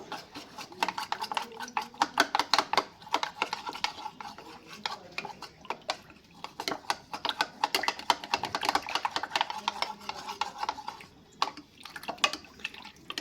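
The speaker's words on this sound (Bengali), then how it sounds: "আমি এখানে কর্নফ্লাওয়ার 2 চামচ দিয়ে দিচ্ছি। দিয়ে নিয়ে ভালো করে মিশিয়ে নেব।" A spoon stirs cornflour into milk in a container, making rapid, continuous clicking and tapping against the sides in quick bursts, close and fairly crisp, with no voices.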